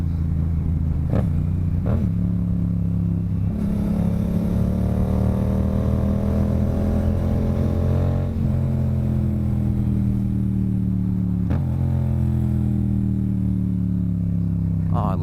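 A motorcycle engine runs steadily at close range, holding a low droning idle with a few brief revs, loud and continuous throughout with no talk over it.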